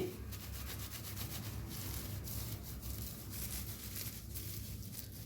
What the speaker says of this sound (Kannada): ಈಗ ನಾನು ಪೀನಟನ್ನು ಇದಕ್ಕೆ ಹಾಕಿ ಈ ಥರ ರಬ್ ಮಾಡ್ತಾ ಇದ್ದೇನೆ